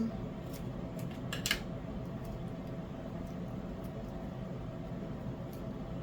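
Scissors snipping through a diamond painting canvas, a few quick, faint, close cuts clustered near the start over a soft steady background hum.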